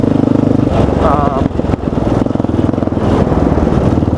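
A 2004 Yamaha Raptor 660R quad engine while riding at Hidden Falls, a loud close throbbing exhaust that rises and falls with throttle, while someone talks over it.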